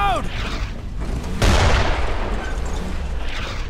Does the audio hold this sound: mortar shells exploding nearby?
yes